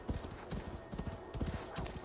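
Horse hooves clip-clopping in Assassin's Creed Valhalla, a quick steady galloping rhythm of muffled thuds at close range with faint game ambience, no talk.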